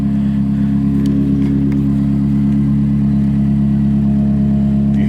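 A 2020 Toyota Corolla LE idles steadily, its exhaust giving a loud, close, even low hum with a smooth tone and no change in pitch throughout, with no voices.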